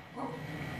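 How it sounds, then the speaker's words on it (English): A pet dog gives a single short, faint bark or yip indoors, a brief muffled sound heard alone. "That's my dog."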